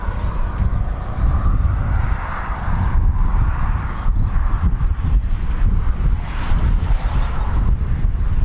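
Red Arrows jet aircraft pass over RAF Waddington in bad weather, heard as a broad roaring rumble mixed with heavy wind buffeting on the microphone, loud and continuous.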